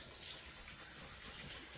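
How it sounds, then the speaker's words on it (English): Tap water runs steadily as toheroa shellfish are rinsed in a bowl, a continuous close hiss and splash with no talk over it. "And just water, water, water, rinse, rinse, rinse."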